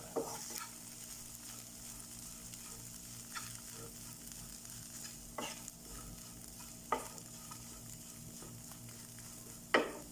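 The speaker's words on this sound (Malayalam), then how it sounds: "എല്ലാം കൂടെ മിക്സ് ചെയ്യുക" A spoon stirs and scrapes through a thick rava masala bonda mixture in a pan, soft sizzling underneath and a few sharper knocks against the pan.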